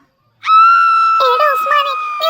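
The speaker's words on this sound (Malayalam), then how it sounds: "ആരുടെയോ അട്ടഹാസം കേൾക്കാം" After a moment of silence, a single loud, high-pitched scream bursts out and holds for nearly two seconds, wavering near the end, in an animated ghost story.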